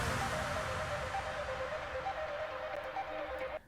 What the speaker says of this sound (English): all I did was I cut the little arpeggio that is the fade out